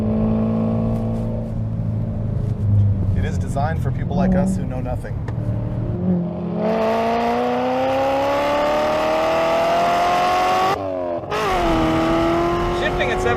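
A 1955 Chevy Bel Air engine revs loudly and close while driving, its pitch climbing steadily with a brief drop as it shifts, with people talking over it.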